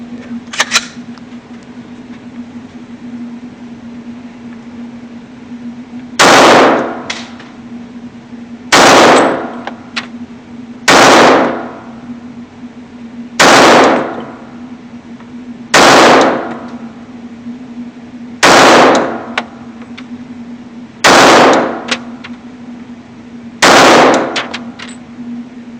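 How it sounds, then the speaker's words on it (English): Single shots from a Glock 21SF pistol at a shooting range ring out eight times at slow, fairly even intervals, each a loud sharp crack over a steady background hum, with no talking. "Try to shoot for some accuracy, see if I can get it right in the middle."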